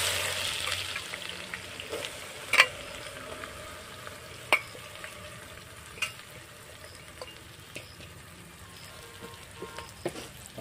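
Onion and crushed whole spices frying in hot oil with cumin for a village-style chicken curry, a steady close sizzle with occasional sharp clicks of a spoon stirring the pan.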